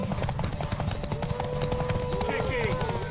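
Horse hooves clip-clop at a steady trot in The Witcher 3, a rhythmic clatter running throughout under game voices and chatter, with tonal music or calls drifting over it.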